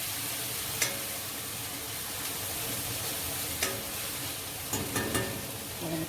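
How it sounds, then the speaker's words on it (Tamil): Tomatoes sauté in a pan for a chicken masala gravy, giving a soft, continuous sizzle with a few sharp utensil clicks and stirring taps scattered through it. "தக்காளி நல்லா வதங்கணும்"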